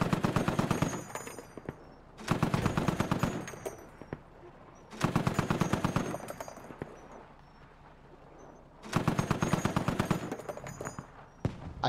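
DShK heavy machine gun in the Squad video game, firing four long sustained bursts of rapid, loud, close automatic fire separated by brief pauses.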